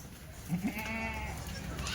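A rain-wet Kathiawari goat lets out a single drawn-out bleat at close range, preceded by a couple of short low grunts, over steady background noise.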